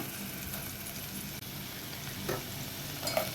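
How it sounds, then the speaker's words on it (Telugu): Onions and green chillies frying in oil with tempering seeds, a dense close sizzle that runs steadily throughout with a couple of brief stirring scrapes near the end. "ఉల్లిపాయలు, పచ్చిమిరపకాయలు వేసేసుకున్నానండి తాలింపు గింజల్లో"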